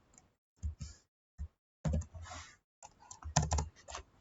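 Computer keyboard typing in short bursts of clicky keystrokes separated by pauses, close and fairly quiet, as code is entered.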